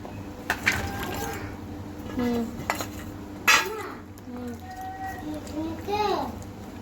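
Fried banana pieces stirred and sautéed in a home kitchen pan, with metal utensil scrapes and clinks against the pot in irregular bursts, while a voice and other talk sound in the background.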